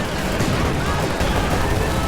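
Submachine gun fire from shock troops in a video game: dense, continuous rattling bursts mixed with blasts, loud and unbroken throughout, with a voice talking over it.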